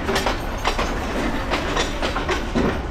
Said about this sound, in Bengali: বুঝতেই পারছেন ট্রেন কোন স্পিডে যাচ্ছে